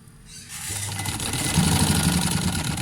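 A sewing machine stitches along the edge of a plain trouser. Its motor whirs up from quiet to a steady, close, mechanical hum with a rapid stitching rattle that holds to the end.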